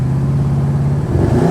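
A 1969 Camaro with an LS engine accelerating on the road, a loud close engine drone that rises in pitch as it revs up.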